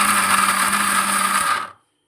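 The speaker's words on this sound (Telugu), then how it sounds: "వేసి మెత్తగా గ్రైండ్ చేసుకోవాలి." A mixer grinder whirs loudly and steadily while grinding peanut chutney, running alone for under two seconds before cutting off abruptly into silence.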